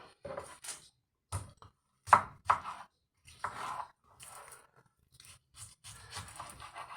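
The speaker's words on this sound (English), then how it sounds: "if you cut the onion up a little bit, put that in there" A knife chopping onion on a board for salsa roja: a handful of sharp, irregular chops up close, separated by quiet gaps, with a few softer cuts toward the end.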